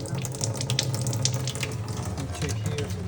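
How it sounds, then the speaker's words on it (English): Water runs steadily from a tap or pipe in a continuous, close rushing stream with no pauses, splashing with a bright hiss. "So water's flowing down."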